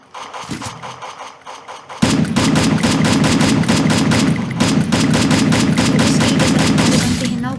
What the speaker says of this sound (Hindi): और फायरिंग की आवाज़ें आ रही हैं